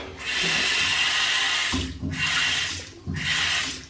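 A tap runs water into a sink in a steady, close, loud splashing stream that briefly cuts off and restarts twice.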